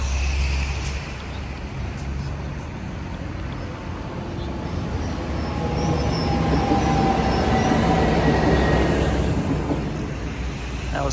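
Hunter Set J6 train rumbles past Waratah Station near a bridge, a broad steady roar that swells gradually toward the end, with no talking.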